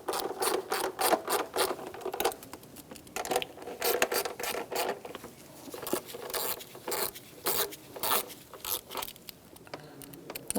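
Bolts on an aluminum valve cover of a 2012-2018 Ford Focus 2.0L four-cylinder are threaded in by hand, giving a steady run of close, light metallic ratcheting and scraping clicks with soft rubbing between them.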